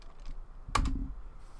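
A single sharp keystroke on a computer keyboard, pressing the enter key, close and fairly loud in a quiet room, followed by a short soft rattle.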